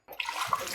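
Water poured into a glass and spilling over, a short splashy gush that starts abruptly and runs on steadily at moderate, close range with no one speaking.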